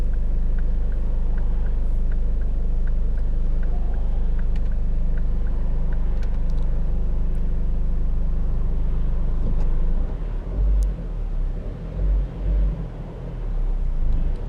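A Ford Focus 2.5 TDCi diesel accelerates from 0 to 100 on a busy road. The engine drone and road rumble are heavy and constant, then grow rougher and more uneven toward the end, with no talking.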